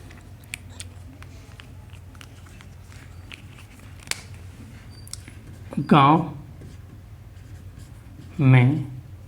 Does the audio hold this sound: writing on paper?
yes